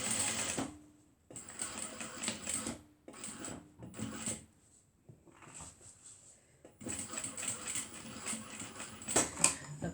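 Home sewing machine stitching fabric for a foldover clutch purse, running in several close bursts of rapid, even whirring separated by short pauses, with a soft clunk as it stops.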